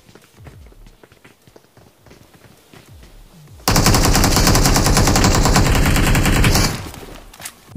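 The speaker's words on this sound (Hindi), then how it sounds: "ऊपर चढ़ने से पहले प्री फायर दे दिया।" Game gunfire in PUBG Mobile (BGMI) erupts as a loud, dense burst of automatic shots lasting about three seconds, preceded by quieter footsteps and movement sounds.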